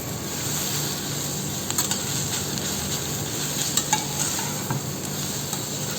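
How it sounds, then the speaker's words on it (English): Food sautés in a pan during Rajasthani cooking, a continuous loud sizzle with a few faint clinks and scrapes of stirring and no talking. "a little saute"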